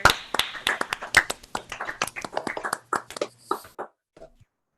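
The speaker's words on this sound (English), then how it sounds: "get a round of applause for all of our amazing directors." A small group applauds directors at a theatre awards event, giving a short burst of clapping that thins out into scattered claps and then stops.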